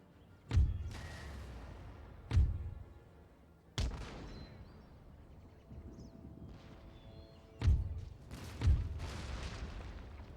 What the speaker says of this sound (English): their cannons seem to be more accurate than ours